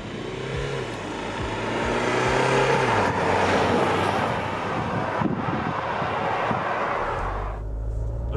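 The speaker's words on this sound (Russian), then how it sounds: "Едем без педалей и просто газ в пол до упора." A Kia with one occupant and the climate control on accelerates at full throttle in sport mode, a loud, rising engine roar with wind noise building steadily over several seconds, then easing off near the end.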